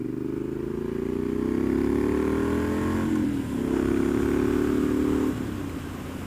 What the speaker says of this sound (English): I think it's a 2017 plate Triumph Scrambler, Street Scrambler.